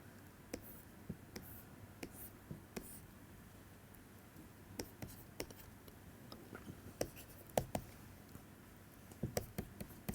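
Chalk or marker taps and scratches on a board during a physics lecture, a faint, irregular series of short strokes and clicks in a quiet room.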